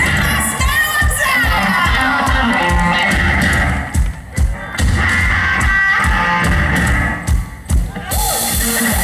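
A concert crowd at a live rock show in Makassar cheers and shouts loudly, a dense roar of whoops and yells with a few brief dips, voices mixed throughout.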